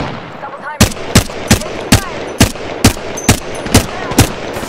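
Rapid gunfire strikes the player in Apex Legends, roughly ten loud, sharp cracks in an even rhythm, close and punchy over a low game background.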